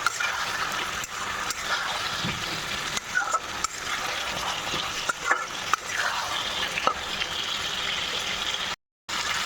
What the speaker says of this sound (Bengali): সবাই দেখুন ভালো করে মিক্স করে নিচ্ছি